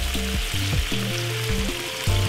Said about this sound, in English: And you want to fry them for roughly about say 5 minutes on each side to get the perfect color.